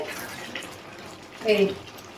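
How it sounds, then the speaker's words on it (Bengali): A thickened vegetarian pointed gourd (potol) curry simmers in a pan with soft, quiet bubbling and a brief louder burst of bubbles near the end. "এবার দেখুন এটাকে আমি ভালো করে একটু ফুটিয়ে নেব।"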